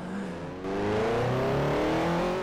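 Toyota Celica ST205 engine in the Forza 4 racing game, revving hard and accelerating with a rising turbocharged tone, loud and continuous with no talk over it.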